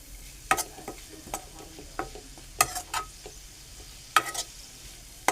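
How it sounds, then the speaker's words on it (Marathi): Onion sautéing in a pan while being stirred for a vegetable dish, quiet sizzling beneath sharp, irregular scraping clicks of a spoon against the pan, close and fairly soft. "कांदा चांगला परतून घ्यायचा."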